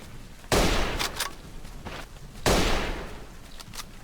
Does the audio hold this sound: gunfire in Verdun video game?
yes